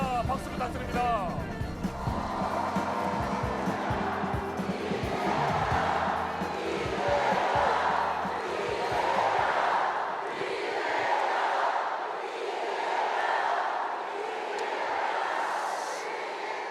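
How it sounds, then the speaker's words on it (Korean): A large crowd at a Democratic Party convention roars and cheers in rhythmic waves while a new party leader is welcomed on stage, with amplified talk and music at the start. "여러분 더욱 힘찬 함성과 박수 부탁드립니다"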